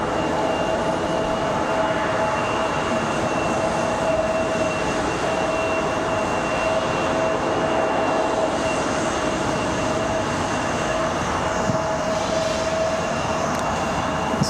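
An Air Canada jet airliner takes off at Raleigh-Durham International Airport, a steady broadband roar with sustained high engine tones heard from a distance, alone without talk.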